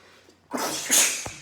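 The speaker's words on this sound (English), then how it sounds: "There's where that stupid sneeze came from." One loud, close sneeze bursts out after a moment of quiet, a sharp breathy blast with a short tail, heard alone without talk.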